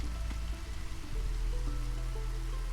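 Drizzling rain in the video game Against the Storm: a continuous gentle patter and trickle of water over a low steady background drone, no voices.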